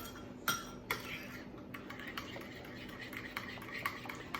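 A metal spoon stirs lumpy mayonnaise dipping sauce in a bowl, giving quiet, close clinks and scrapes in an irregular rhythm with a few sharper taps against the rim.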